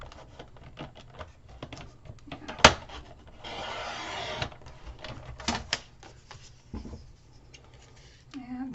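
Paper is cut and handled by hand for a gatefold card, with scraping, rustling strokes, a sharp snap and a brief sustained rasp, close and intermittent.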